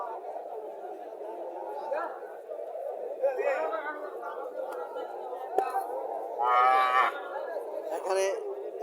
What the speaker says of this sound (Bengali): ও বিশাল গরু, বিশাল বাছুর।